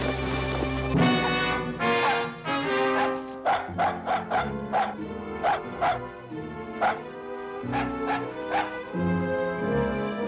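A dog barks repeatedly in short, uneven bursts, mixed with yips and whimpers over a background of sustained musical tones.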